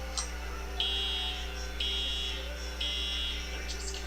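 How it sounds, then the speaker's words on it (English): Fire alarm at a Raleigh elementary school sounding in repeated long electronic tones, three steady pulses over a constant low hum, fairly loud and clear with no talk. "that alarm sounds and those lights flash, students at A.B. Combs Elementary School in Raleigh know exactly what to do"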